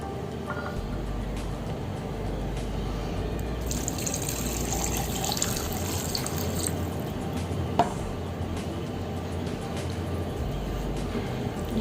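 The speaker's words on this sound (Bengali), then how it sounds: "এর মধ্যে পানি দিয়ে দিব।" Water is poured into a pan of marinated tangra fish sprinkled with cumin, making a steady, close liquid rush and faint splashing with no talk.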